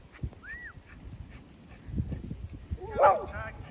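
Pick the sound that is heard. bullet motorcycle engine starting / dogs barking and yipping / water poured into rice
dogs barking and yipping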